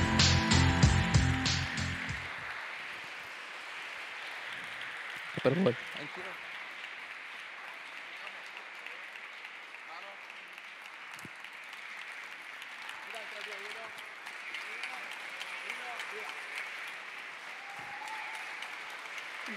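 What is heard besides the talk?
audience applause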